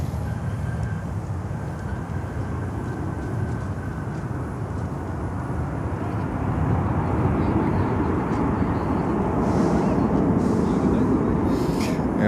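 A cargo airplane touches down at Miami airport, a steady broadband roar of engines and wheels on the runway that grows slightly louder halfway through and stays continuous, with no talk over it.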